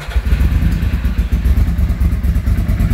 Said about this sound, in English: We're going to start the bike, and hopefully it'll run first because it's a little fussy